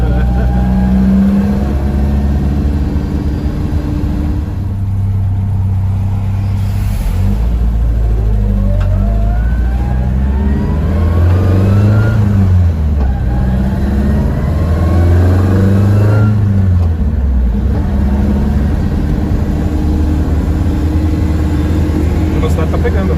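BMW 320i E21 on a MoTeC M4 engine management setup, revving and pulling through the gears while driving, engine drone rising and falling with several revving sweeps, steady and close, with people talking over it inside the car.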